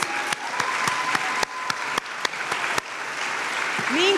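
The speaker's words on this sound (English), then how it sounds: "we deserve to give each other a round of applause because we have earned it" Audience at a Hispanic heritage event claps in a sustained, dense round of applause with a few sharper claps standing out, heard up close. A brief voice and a rising whistle-like tone come through near the end.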